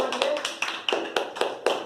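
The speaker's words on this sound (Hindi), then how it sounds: "अभी जोरदार तालियां।" Children applauding at a spelling bee award ceremony at a coaching institute, a sharp sparse patter of separate claps arriving in uneven bursts rather than a dense roar, fairly close and moderately loud.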